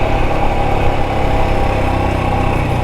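A Royal Enfield Himalayan 411 motorcycle idles on a dirt trail, its engine note a loud, steady, close thrum with no talk.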